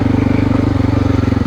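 A Honda XR600R motorcycle engine runs close and loud at a steady idle, its thumping single-cylinder pulses repeating in an even rhythm.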